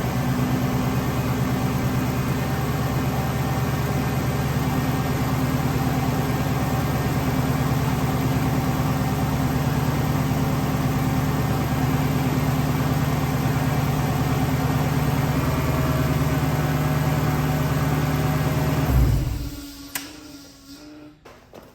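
A 1UZ/3UZ engine fitted with an Eaton TVS1900 supercharger idles steadily with a low, even rumble, then cuts out abruptly near the end, leaving faint rattles and quiet.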